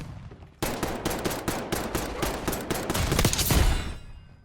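Rapid automatic gunfire from the Tanto SMG in a Call of Duty game, a loud, dense burst of shots fired in quick succession for several seconds with no talking over it.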